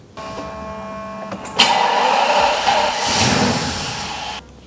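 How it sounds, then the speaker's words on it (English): A BMW V12 engine's starter cranks and the luxury V12 fires into a steady, loud idle rumble, preceded by a brief whirring starter whine, with no one talking. "I love the starting sound of these V12s"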